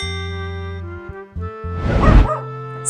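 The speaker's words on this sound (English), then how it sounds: "D for dog." A dog barks once or twice in a quick burst, loud and close, as steady musical tones play underneath.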